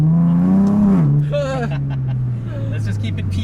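A Nissan 370Z with its naturally aspirated 3.7-litre V6 revs loudly up and then drops into a steady drone close by, with a voice talking over the engine.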